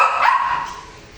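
A single dog gives a loud, close bark that trails off into a brief whimpering tail, heard alone with no voices.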